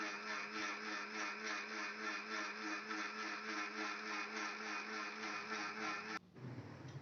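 A mixer grinder blends egg and oil into mayonnaise on low speed, a steady, loud mechanical whir with a faint pulsing that runs unbroken for about six seconds, then cuts off abruptly, leaving quieter residual noise.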